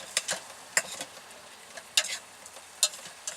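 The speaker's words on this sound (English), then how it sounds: "And we're just sweating down the onions to get the bacon in there." Onions, carrots and bacon sweat in a pan over low heat in a van kitchen, with a soft sizzle broken by sharp scraping stirs and crackles at irregular moments.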